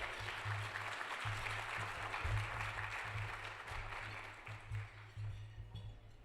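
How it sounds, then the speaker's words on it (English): An audience at an awards gala applauds steadily for several seconds, a dense, sustained patter of clapping from a full room that gradually thins toward the end. "Please continue to applaud for Captain"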